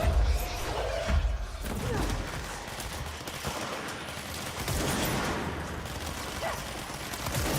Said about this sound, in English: It really wants me to use that grenade launcher, which I guess I could.